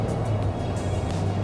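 A Range Rover 4.4 TDV8 drives with a low, steady engine and road rumble heard from inside, smooth and unbroken through a short stretch of acceleration.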